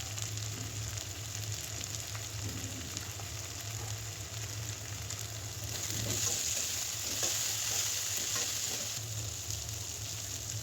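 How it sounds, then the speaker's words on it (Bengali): Cut potatoes fry with salt and turmeric in a pan while being stirred. A continuous, moderately quiet frying hiss carries throughout, rising slightly in the middle with a flurry of soft stirring scrapes. "আলুটা একটু ভেজে নিয়েছি।"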